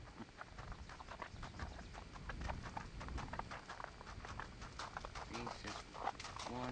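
A mare moves nearby, her hooves clip-clopping in an irregular patter, with someone speaking over the footfalls.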